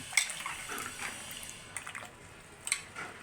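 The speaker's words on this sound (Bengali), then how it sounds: "সিম কাটা শেষ এখন ধুয়ে নিতেছে ভালো মতো" Chopped flat beans are washed by hand in water, giving soft splashes and sloshing with brief drips and a couple of sharper splashes, close and fairly quiet.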